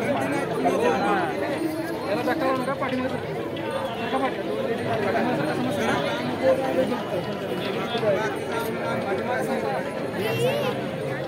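A crowd gathered in Rampur Shirvali to see Bakasur, a bull named Mohan, makes a steady hubbub of overlapping voices and chatter throughout, with occasional shuffling and movement in the background.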